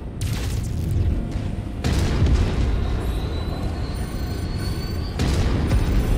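A mech blows up in the Mechwarrior 5 Mercenaries video game: loud booming blasts repeat in heavy bursts, with low rumble running through the whole stretch and no speech.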